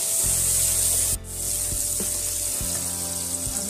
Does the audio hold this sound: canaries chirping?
no